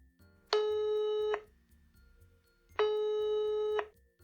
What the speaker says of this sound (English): Tom's phone rang.